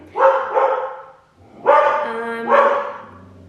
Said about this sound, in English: She must see a dog outside.